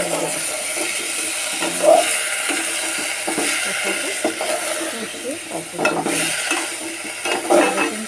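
Vegetables with browned onion stir-fried in a pan for koi fish curry, a close, continuous sizzle broken by scraping and stirring of the spatula, with no voices.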